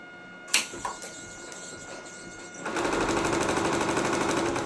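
A computerized embroidery machine clicks a few times, then starts up and runs with a fast, even rattling stitch rhythm, close and steady for the last couple of seconds; no talking.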